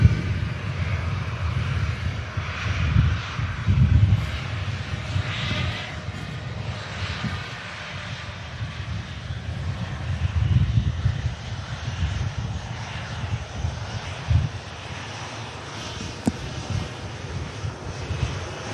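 At Manchester Airport, an airliner's engines roar steadily through a takeoff, loud and sustained with swells of power and wind buffeting the microphone, and no talk over it.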